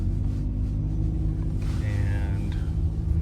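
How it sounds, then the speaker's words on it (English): A 2009 Toyota Camry LE four-cylinder with a small exhaust leak accelerates, a steady low engine rumble and drone inside the car with a faint rising whine, fairly quiet, no talk. "It has a small exhaust leak, so under acceleration you may hear that."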